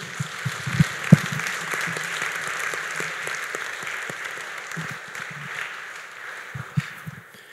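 A church congregation at a Saturday service applauds steadily, with sustained crowd clapping and a few sharper claps standing out near the start and end.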